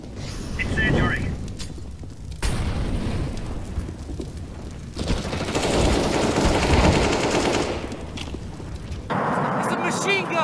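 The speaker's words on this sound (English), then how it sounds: "It's a machine gun." Machine gun fire and heavy gunfire from a CS:GO match, dense sustained bursts with booming blasts, loud and close, broken by brief pauses and a voice talking over parts of it.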